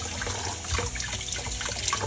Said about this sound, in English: you would actually use water and then you just rinse everything off